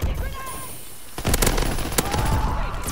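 Rapid gunfire cracks in the World War II shooter Call of Duty: WW2, a dense burst of repeated shots over a steady background hum of game noise.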